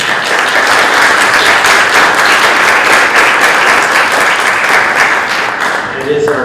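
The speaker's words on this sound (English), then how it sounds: "We'll first applaud." Sustained clapping fills a village board of trustees meeting room, a dense, loud round of applause from the attendees that holds steady before fading slightly at the end.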